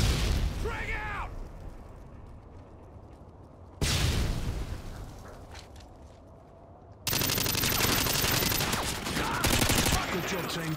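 A frag grenade blast and bursts of gunfire in a search-and-destroy round of a video game come in abrupt, loud sections, with voices heard alongside the combat noise.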